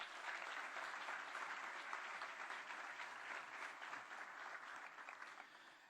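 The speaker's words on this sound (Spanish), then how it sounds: "Un aplauso para ellos, por favor." An audience at La Moneda, the presidential palace, applauds the organisers at a reception for writer Mario Vargas Llosa, a dense, even wash of many clapping hands holding steady and fairly faint throughout.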